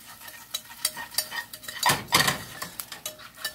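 A butter and flour roux stirred in a pan for homemade mac and cheese: close scraping and clinking of a utensil against the pan, with soft sizzling and a louder swirl of stirring midway, and no voices.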